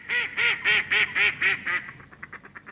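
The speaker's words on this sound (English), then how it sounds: "Of course, you can hear quacking too, notably from female mallards." Female mallard ducks give a clear descending run of about eight loud, nasal quacks, then trail off into softer, quicker quacks, heard close and alone.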